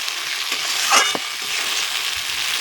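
Potatoes frying in a pan for a rui fish paturi recipe, a steady oily sizzle with a brief scraping stir of the spatula partway through, close and alone.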